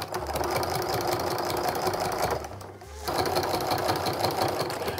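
Sewing machine running steadily while stitching a fabric Christmas stocking pieced from charm pack squares, a fast continuous mechanical whir that stops briefly for a moment near the middle, then resumes at the same close, even pace.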